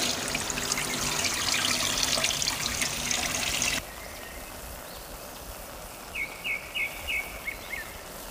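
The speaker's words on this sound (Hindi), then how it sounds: "इसको टैप वाटर से अच्छे तरीके से हम इसको धो लेंगे" Soaked chickpeas are rinsed under a running kitchen tap in a steady, loud rush of water that stops abruptly midway, leaving a quieter room with a few faint chirps.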